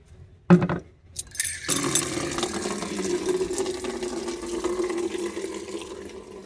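Tap water running and filling a container to water garden plants, roses among them; a few clinks and knocks come first, then a steady close stream that carries on to the end with no talk.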